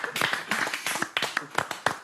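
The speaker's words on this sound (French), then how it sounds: "J'ai encore envie d'applaudir." A single person clapping hands in a quick, uneven run of sharp claps, close and fairly loud, with a faint trace of voice in the background.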